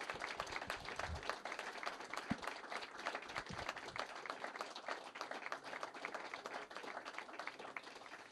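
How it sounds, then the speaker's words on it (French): An audience applauds guests at a Geneva event, steady continuous hand clapping from a crowd, evenly sustained and somewhat distant throughout. "je vous demande de les applaudir très fort"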